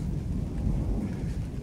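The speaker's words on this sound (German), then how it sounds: "und donnert am Bodensee in Konstanz." A thunderstorm over Lake Constance at Konstanz, with a low continuous rumble of thunder and rain mixed with some wind noise, steady and loud throughout without any speech.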